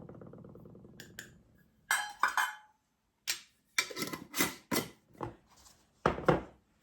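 Powdered dry milk is measured out and poured, heard as a string of close scoops, taps and clinks of a cup and utensil, with a brief low rustle at the start and no talking.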